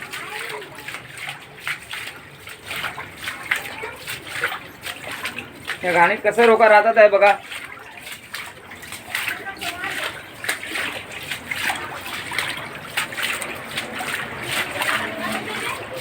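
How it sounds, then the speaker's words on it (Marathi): Footsteps splash and slosh through floodwater in a narrow residential lane, a burst of louder splashing standing out midway while someone talks throughout over steady background noise. "इथे घाणेडा आपण चालतो पाण्यातून"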